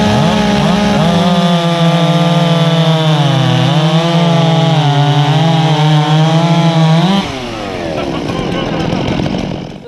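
Chainsaws fitted with Dole chains bucking a log, loud and close, a sustained high engine whine that dips under load, then drops and revs again near the end, with a voice briefly audible over the roar.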